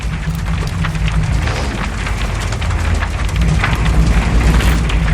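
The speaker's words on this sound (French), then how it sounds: "J'aime pas cette tempête." Heavy storm rain pours with rumbling thunder in Shadow of the Tomb Raider, a loud, dense and continuous roar of downpour with a low thunder rumble underneath, close and enveloping, with no voices.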